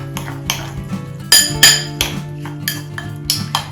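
Bruschetta topping stirred in a bowl with balsamic vinegar and black pepper, a spoon clinking and scraping against the dish in irregular close knocks, a few sharper taps standing out, no speech.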